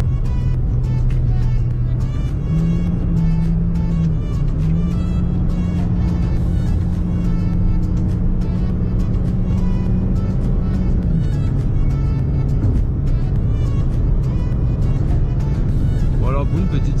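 Small everyday city car accelerating hard in sport mode, engine drone rising in pitch and holding steady at high revs, loud and continuous from inside the cabin.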